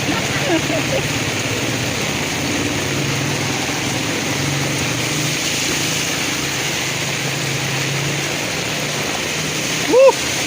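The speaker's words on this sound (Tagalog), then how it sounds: "Grabe naman yung baha na yan" Floodwater rushes steadily through a street in Quezon City during heavy rain, a continuous broad roar with an engine-like hum beneath, while voices talk over it and a brief splash sounds near the end.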